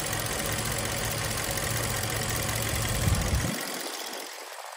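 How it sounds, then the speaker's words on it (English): A 2012 Audi A8L engine idles steadily up close for a few seconds, then its low rumble drops away abruptly, leaving only a faint hiss; no one speaks. "let me now show you how the engine runs."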